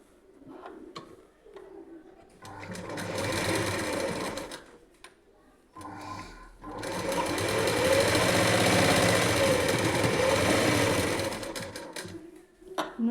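A sewing machine stitches fabric in several loud, steady runs of rapid mechanical whirring, separated by short pauses, close by and with no talk over it.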